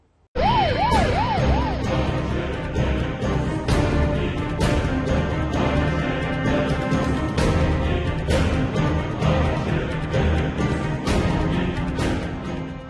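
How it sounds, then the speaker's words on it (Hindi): Ambulance sirens wail on the streets of Maharashtra during a COVID-19 surge, a loud, continuous, wavering siren over a dense, rhythmic background that fills the whole stretch. "सड़कों पर सायरन बजाती एम्बुलेंस दिल में दहशत पैदा करती है।"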